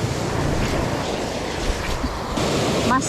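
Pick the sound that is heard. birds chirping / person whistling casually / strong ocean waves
strong ocean waves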